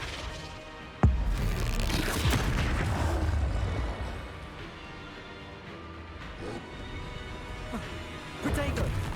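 The Flipendo spell is cast in Hogwarts Legacy: a sharp, loud crack strikes, then a rumbling, crashing wash of magical impact lingers for several seconds, and a further thud and swell come near the end.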